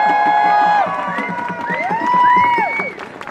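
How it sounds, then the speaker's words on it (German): A crowd at a large demonstration in Salzburg cheers and applauds the Friedenstrommler peace drummers, loud and close, with sliding whistle or horn tones rising and falling above the roar. "Einen herzlichen Applaus für die Friedenstrommler."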